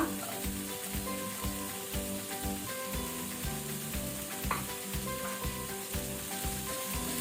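Tomatoes frying in a hot pan for restaurant-style pav bhaji, a steady dense sizzle with a rhythmic stirring scrape throughout, close and fairly loud, with no voices.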